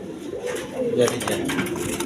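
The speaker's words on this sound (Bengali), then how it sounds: "এখানে একটা সিঙ্গেল মাদি কবুতর আছে" A single female pigeon at a pigeon market gives a brief low coo, heard under someone talking nearby, with light clinking in the background.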